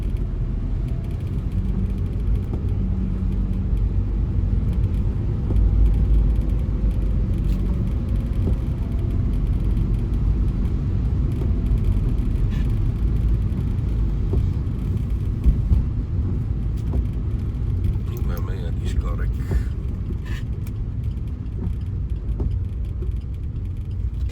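Songthaew vehicles carrying children to school along flooded roads on Koh Samui, a continuous low road rumble and engine whir nearby, with splashy crackles late on.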